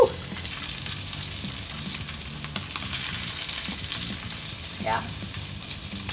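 Steak sears in a stainless steel pan with a continuous close sizzle and occasional stirring scrapes, while someone speaks briefly over it.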